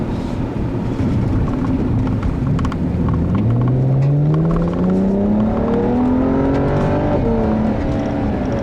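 A 2013 BMW 335is with a twin-turbo six-cylinder engine and dual-clutch transmission accelerates hard, its loud engine note climbing steadily through the gears with a brief dip at a shift, heard from inside the car.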